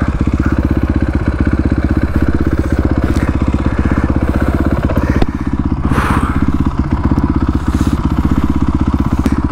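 A Ducati motorcycle engine rumbles loud and close throughout with a steady, pulsing low throb, and a brief swell of rushing noise comes midway.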